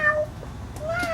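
A big cat at the Jacksonville Zoo meows twice, a short tonal call at the start and a longer, rising-then-falling one near the end, fairly close against quiet background noise.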